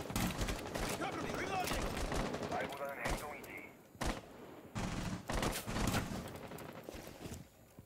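Rapid bursts of automatic gunfire crackle through a gunfight in a Ubisoft video game, dense volleys trading back and forth with brief pauses, loud and close, with players talking over the shooting.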